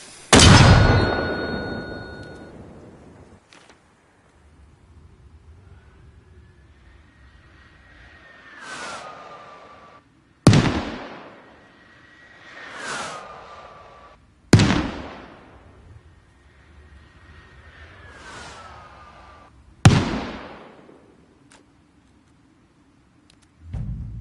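Mortar rounds in the video game ARMA Reforger: heavy booming launches and blasts spaced several seconds apart, each ringing out and decaying, with faint whistling between shots.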